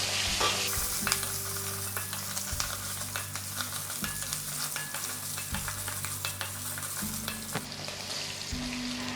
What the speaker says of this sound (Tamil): இப்போது ஒரு 4 பல்லு பூண்டு, ஒரு துண்டு இஞ்சி, ஒரு 5 சின்ன வெங்காயம், 5-6 சின்ன வெங்காயம், இதை போட்டு நல்லா வதக்கிப்போம்.